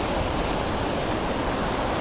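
Waterfall on Anglesey pouring steadily, a dense, even broadband rush of falling water that holds at constant loudness throughout with no voices.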